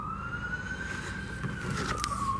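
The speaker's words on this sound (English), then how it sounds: "looks like there's sirens." Emergency siren wailing in the distance, a single long rising and falling tone over low street traffic rumble.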